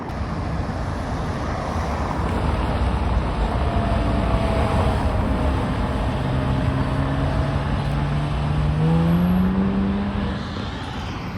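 Porsche 911 GT3 of the 997 generation accelerating through Paris city traffic, a loud rising engine tone climbing in pitch over steady street rumble, with other cars passing nearby.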